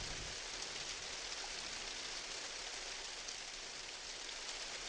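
Steady rain falls in the Minecraft video game, a constant even hiss of drops with no other sounds, quiet and unbroken throughout.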